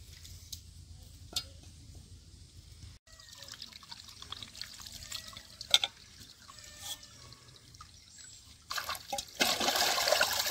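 Water splashes and trickles faintly in a small bowl as fish is washed by hand, with scattered drips and sloshes over a low background hum, growing louder toward the end.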